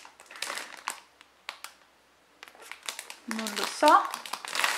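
Plastic IKEA vacuum storage bags are handled close by, giving loud crinkling and rustling bursts while someone talks.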